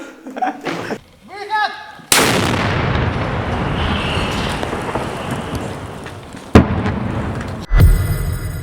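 Heavy booming blasts of artillery fire roll out with a long rumbling tail, one sharp bang at the start and more later, with brief voices before the first blast.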